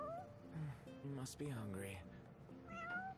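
A stray cat in the video game Final Fantasy XV meows several times in short, rising cries, close and clear, interleaved with someone speaking.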